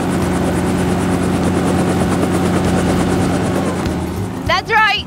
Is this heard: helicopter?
yes